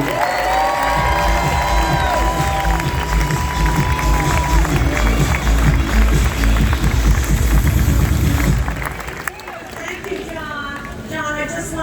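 A large audience at a cruise ship naming ceremony for the Carnival Panorama cheers and applauds loudly for several seconds, then the roar drops off as a voice begins speaking over lingering claps.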